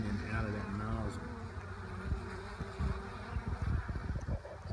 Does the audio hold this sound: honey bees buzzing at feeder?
yes